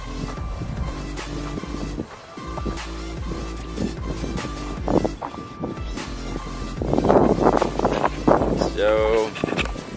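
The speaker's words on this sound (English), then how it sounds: "So it is windy, so hopefully you guys can hear me because I didn't bring my mic with me." Wind blows outdoors beside a Lexus IS300 SportCross under repair, buffeting the microphone with a constant low rumble and gusts that rise toward the end, while someone talks throughout.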